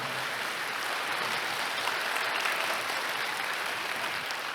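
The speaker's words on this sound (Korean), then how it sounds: "우리 박용호 회장님께 일단 감사의 박수를 드리기 전에 네, 먼저 박수 드리죠." Audience applause at a stock-investing seminar, a steady, even wash of clapping that holds for several seconds at moderate, slightly distant loudness.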